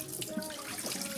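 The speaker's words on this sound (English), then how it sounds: "we're going to drain that first thing of potato water, get rid of some of the starch" Starchy potato cooking water drains into a kitchen sink in a steady, faint splashing stream with a thin trickling tone, heard alone without any voices.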